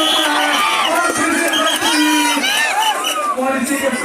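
A crowd at a local village kabaddi match cheers and claps in a continuous dense roar, with an excited commentator talking loudly over it.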